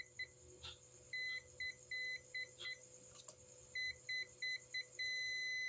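A digital multimeter's continuity buzzer beeps in short, evenly spaced bursts as the probes touch a cable, then holds one longer steady tone at the end. The beeps are clear and moderate in level over faint background hum.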